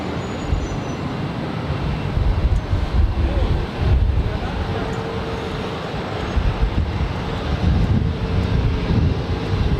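KLM jet airliner heading for Amsterdam flying at LAX, a broad low roar heard from a distance under wind buffeting on the microphone, swelling and fading over the clip.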